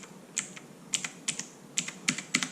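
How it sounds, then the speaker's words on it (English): Typing on a cheap mechanical keyboard with clone Cherry MX Blue switches, heard as a run of sharp, close clicks in irregular bursts, some keystrokes paired, with no talking. "There's a very audible click"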